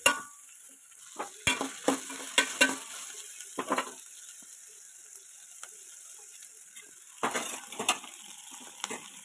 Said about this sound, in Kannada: ಇವಾಗ ಕ್ಯಾಪ್ಸಿಕಮ್ನ ಹಾಕ್ಕೊಂಡು ನೀಟಾಗಿ ಅದನ್ನು ಫ್ರೈ ಮಾಡ್ಕೊಬೇಕು